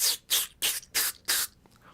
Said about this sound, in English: That's the spray bottle. Hence the noise.